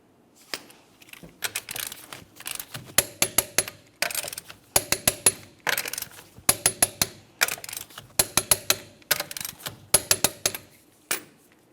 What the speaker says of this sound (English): Once your rear wheels are back on the ground, continue torquing them in a crisscross manner.